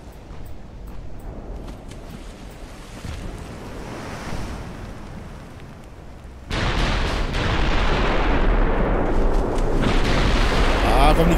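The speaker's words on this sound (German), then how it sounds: "Ah, kommen die Granaten der Bismarck." Heavy naval shells from the battleship Bismarck land in Ultimate Admiral Dreadnoughts, a sudden loud broadband roar surging in midway over a steady wash of wind and surf and holding strong to the end.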